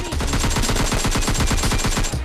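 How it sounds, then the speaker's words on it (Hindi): Rapid automatic gunfire in the video game PUBG Mobile, a dense continuous burst of evenly spaced shots, loud and close throughout. "भाई इनके कपार पे इतनी गोलियां बजाते ही"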